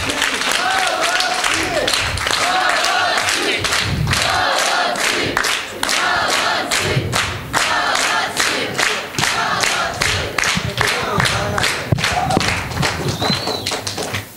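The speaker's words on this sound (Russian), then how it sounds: "Хлопаем, хлопаем." Audience at a vocational college skills competition final applauding the winning team, steady loud clapping that runs throughout, with a few scattered cheers and a voice speaking over it.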